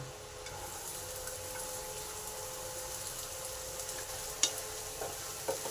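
Chopped onions frying in a pan with garlic and chillies, a faint steady sizzle with a few soft clicks of stirring near the end, close and alone.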